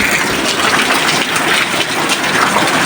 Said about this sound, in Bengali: বাইরে প্রচুর বৃষ্টি হচ্ছে রাস্তাঘাটে একদম ডুববে গেছে পানির মধ্যে